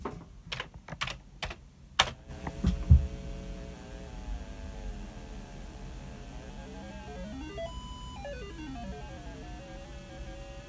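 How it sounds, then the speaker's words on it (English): Commodore game audio warbles as a homemade paddle controller jitters: sliding, wavering electronic tones over a steady hum, preceded by a few sharp clicks. "it does really show up the jitter problem. You'll hear it on the audio as well."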